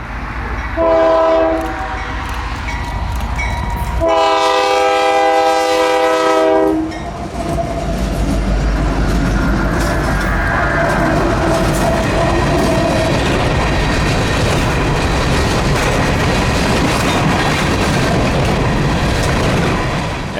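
A northbound Union Pacific coal freight train passes at Shady Point in the Ouachita Mountains, blasting its horn in two loud chords before a long heavy rumble of rolling wagons and wheel clatter, near and loud.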